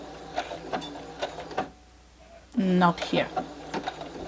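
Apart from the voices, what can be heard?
sewing machine stitching quilt fabric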